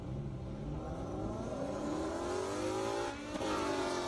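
A Ford Mustang GT and a BMW M6 race on an airstrip with a sustained, distant engine drone whose pitch climbs steadily as they accelerate, with a brief dip in the middle.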